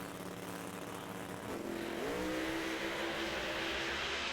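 Pro Modified drag race cars at an NHRA event in Las Vegas, including a twin-turbocharged Camaro, produce a continuous loud engine roar that climbs in pitch partway through as they accelerate, with no talk.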